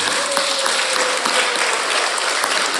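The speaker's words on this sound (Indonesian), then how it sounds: "Tepuk tangannya mana?" Steady, dense applause from an audience at an Isra' Mi'raj religious lecture, continuous and fairly loud throughout with no voices standing out.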